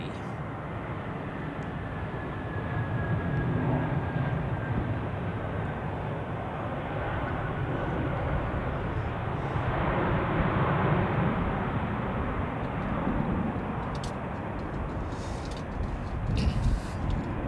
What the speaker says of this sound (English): An A321neo today.